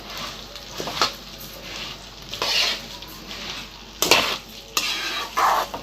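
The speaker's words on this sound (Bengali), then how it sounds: "এবার চালটি দিয়ে দিচ্ছি, চালগুলো।" Rice is tipped into a hot pan and stirred for basanti pulao: a soft sizzle runs underneath while a spoon scrapes and clatters against the pan in several distinct bursts of stirring.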